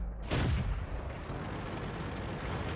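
A single heavy cannon shot from a Comet tank in a tank combat game, a sharp near blast followed by a long rumbling decay under low engine drone.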